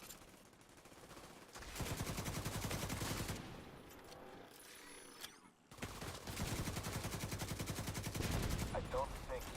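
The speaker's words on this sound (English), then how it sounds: "Oh, I need to shoot that at this point." Shooting in Division 2 comes in two long, loud automatic bursts of rapid evenly spaced shots, separated by a quieter stretch of scattered game sounds.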